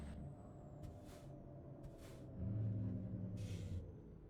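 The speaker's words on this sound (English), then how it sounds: "Can't really hear the full effects of that Jake inside the cab, but outside, boy, it's got a nice rumble to it." Deep, steady engine-brake rumble from a straight-piped Peterbilt 379 truck in American Truck Simulator, heard from inside the cab, with low throbbing tones that swell louder midway and a few brief hissy bursts on top.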